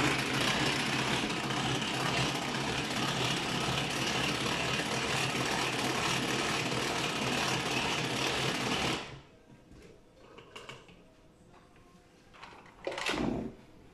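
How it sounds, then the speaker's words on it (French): The motor of a Speedy Chef mixer whirs loudly and steadily for about nine seconds as it blends courgette gratin ingredients, then stops, leaving a few soft handling knocks and clatters. "je vais utiliser, bien sûr, le moteur de mon Speedy Chef 1"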